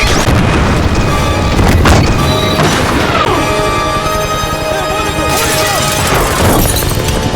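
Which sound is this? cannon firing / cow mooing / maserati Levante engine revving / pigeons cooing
cannon firing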